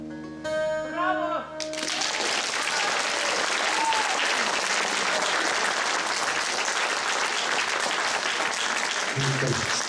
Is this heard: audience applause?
yes